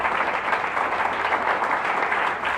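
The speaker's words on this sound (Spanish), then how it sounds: "Si va a aplaudir, aplauda en el nombre de Jesús." A church congregation applauds in a steady, dense wash of clapping that holds evenly from start to finish, loud and close, with no voice breaking through.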